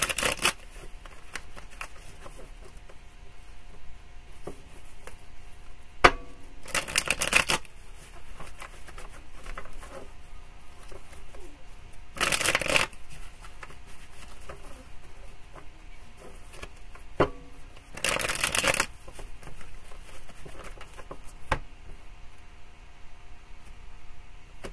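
Tarot cards are shuffled in three or four short, crisp riffling bursts spaced several seconds apart, close by, with quiet pauses between them.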